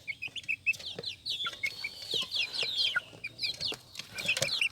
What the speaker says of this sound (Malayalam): അപ്പോൾ ഇതിൽ 2 പൂവൻ കുഞ്ഞുങ്ങളും 2 പെടക്കുഞ്ഞുങ്ങളാണുള്ളത്.